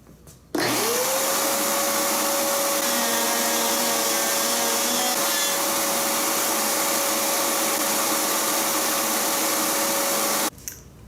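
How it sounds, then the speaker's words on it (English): A workshop vacuum connected to a router table switches on and runs with a steady loud whine for about ten seconds, then shuts off abruptly. "it would be really useful if I turned the vacuum on"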